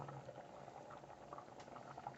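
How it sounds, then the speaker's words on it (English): Spanish black beans and rice simmering in a pot, a faint, close bubbling and gentle popping of liquid over a soft background hiss. "So I'm gonna go ahead and let that simmer."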